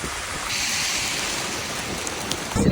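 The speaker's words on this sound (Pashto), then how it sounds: "باران اندازې ته وګوري غږ" Heavy rain falls in Kandahar, Afghanistan, a dense, steady hiss of downpour that stays even and fairly loud throughout, with no voices.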